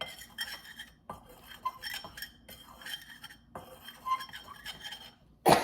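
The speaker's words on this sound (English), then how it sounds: "I'm just gonna use the bottom of this to blend everything together a little bit" Food mixed in a bowl with the bottom of a utensil: close clinks and scrapes against the dish in uneven bursts, separated by short pauses, with a sharp louder clatter at the end.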